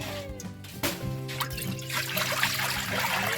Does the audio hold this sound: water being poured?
yes